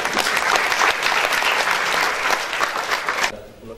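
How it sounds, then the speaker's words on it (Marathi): An audience claps loudly in dense, sustained applause for about three seconds before it drops off sharply near the end. "तिच्या अभिनयाचं, तिच्या कष्टाचं जोरदार टाळ्या"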